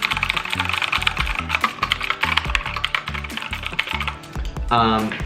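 Rapid typing on a Red Dragon mechanical keyboard with red RGB lighting, clicky keystrokes in a steady, dense rhythm close to the mic over faint background music, with a brief burst of other sound near the end.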